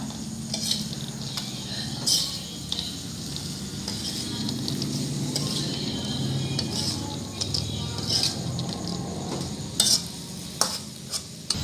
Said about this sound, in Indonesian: Aduk hingga rata.